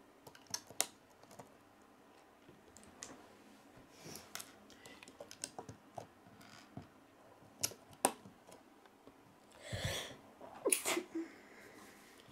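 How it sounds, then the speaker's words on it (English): A single short sneeze bursts out near the end of a quiet stretch of assembling a Lego Star Wars Brickheadz Captain Phasma set (41486), with light clicks and taps of plastic bricks scattered before it. "Sorry guys, I just sneezed."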